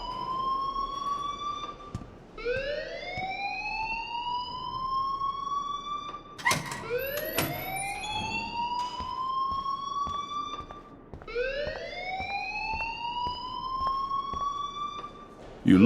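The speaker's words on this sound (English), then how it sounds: "please turn off that alarm since that's your job" A rising-and-falling alarm wails repeatedly in the video game Life is Strange, with long sweeping tones that climb and hold, loud and continuous over a faint background.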